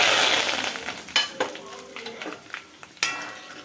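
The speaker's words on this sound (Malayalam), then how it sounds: "ഇപ്പം കടുവ് പൊട്ടിച്ചെടുത്തുകൊണ്ടിരിക്കുവാണ്" Mustard seeds spluttering in hot oil with curry leaves and chillies: a loud, bright sizzling hiss at first that settles, dotted with sharp irregular pops and one louder crackle late on.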